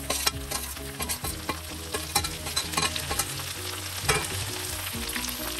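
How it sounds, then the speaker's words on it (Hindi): Green okra hits hot oil with browning onions over high heat, sizzling loudly with spoon stirring and scraping clatter layered over the steady frying hiss. "तेज आंच ही रखनी है और ये हरी भिंडी डाल देंगे"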